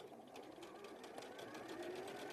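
A sewing machine stitching a line along the edge of fabric for trouser hems, running steadily and continuously at close range with a fast even mechanical chatter, fairly quiet.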